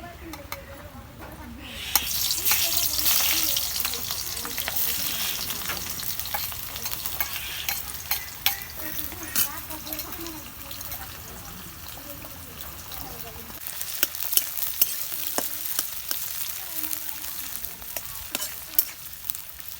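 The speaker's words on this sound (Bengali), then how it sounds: "এখন আমি নাল নাল করে ভাইজা নিব" Onions frying in a pan until reddish brown, with a continuous sizzle under frequent scraping and stirring clicks, and a voice talking over the cooking.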